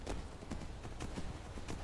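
Horse hooves clop in a steady, fairly quick rhythm in Skyrim Anniversary Edition, faint and soft behind a dull background hum.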